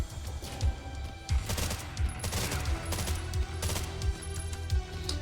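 Rapid gunfire in the Terminator 2D: No Fate video game while the character keeps moving, repeated crackling bursts in a steady stream at moderate level, with no talking.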